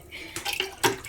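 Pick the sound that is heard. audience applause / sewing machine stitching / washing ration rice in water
washing ration rice in water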